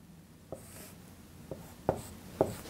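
A pen or marker writes a common denominator by hand during a rational equations lesson, giving a few soft scratchy strokes and taps, quiet and close, with short pauses between marks.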